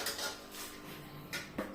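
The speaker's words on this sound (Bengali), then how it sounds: "এই যে এবার কড়াই বসিয়ে দিয়েছেন" A wok set down on a stove while cooking cauliflower pakoras, with a few sharp metallic clatters of pans and utensils spaced across the moment, close by and moderately loud with no talking.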